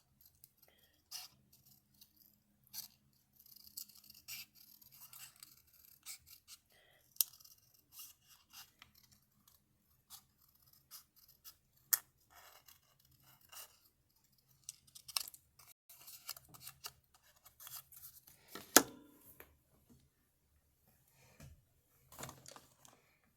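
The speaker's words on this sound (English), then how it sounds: "So I'm going to cut this off." Scissors snipping through paper from a digital journal kit, a long run of quiet, close, irregular clipping cuts and rustles with short pauses between them, no talking.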